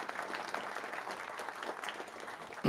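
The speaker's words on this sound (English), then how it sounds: "Round of applause for them." A small pub audience at a community politics talk gives a fairly faint, steady round of applause, with a brief louder knock right at the end.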